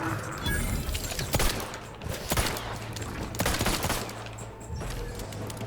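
Bursts of gunfire from The Outer Worlds 2 crack out in a rapid volley, with several sharp shots and short gaps between them over game background noise.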